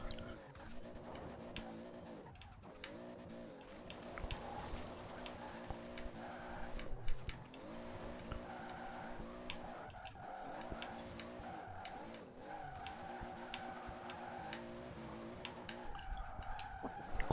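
Car drifting in the racing video game Forza Horizon 4, with a sustained engine roar and repeated tire squeals rising and falling through long slides, steady and moderately loud, with no talking.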